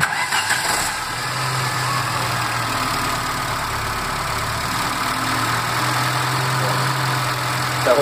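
A VW AP engine in a Gol-family car idles steadily and close, its hum shifting in pitch as the distributor is turned to adjust engine speed, with no talking over it.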